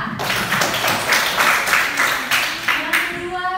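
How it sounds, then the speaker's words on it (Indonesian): Students in a classroom clap for a classmate who earned one of the top quiz scores, a short burst of scattered handclaps that fades, with a teacher's voice over it. "Tepuk tangan untuk Arisa."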